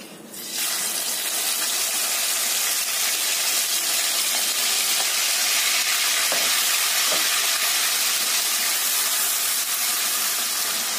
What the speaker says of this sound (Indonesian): Kita tumis bumbu yang sudah kita haluskan tadi.